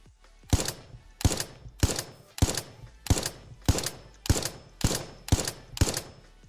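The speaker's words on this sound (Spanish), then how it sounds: "Ahora por lo menos escucha los disparos, que eso siempre está bien." Gunfire in the Roblox video game comes as ten evenly spaced single shots, each a sharp crack with a short tail, loud and steady in rhythm, with no talk over it.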